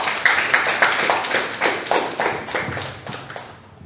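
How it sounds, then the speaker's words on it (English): Audience clapping at a book launch event, a steady patter of hand claps indoors that gradually thins and fades toward the end. "Please clap for him."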